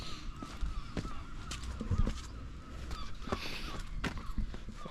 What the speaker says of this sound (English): look at that seagull. These seagulls are just everywhere